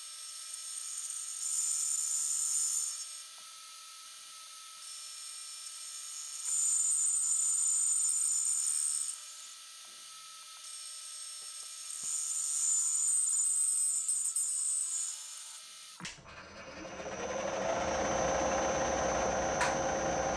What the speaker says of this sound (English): I do have this shell mill with a long arbor, so that's what we'll use